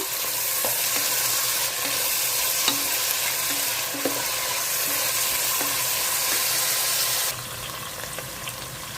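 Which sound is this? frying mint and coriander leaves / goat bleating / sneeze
frying mint and coriander leaves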